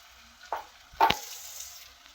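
Fenugreek leaves (methi bhaji) sizzle in hot oil while being stirred, with a couple of brief louder spatters over a steady soft frying hiss.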